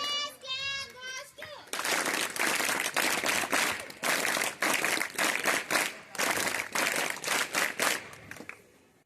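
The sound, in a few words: audience applause at an inauguration program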